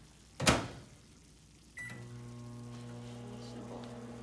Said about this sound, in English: I'm just going to put this in the microwave.